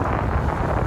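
Strong coastal wind gusts near 60 mph roar into the microphone at a storm-battered beach, a dense, loud rush with heavy buffeting through the whole second.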